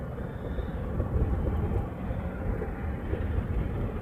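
A Boeing 747 jet taxiing at an airport, a steady low rumbling engine drone that holds throughout at moderate volume, with no voices.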